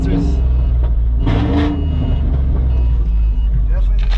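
A car with newly installed headers runs with a loud, rumbling exhaust drone, steady and close, as people talk over it.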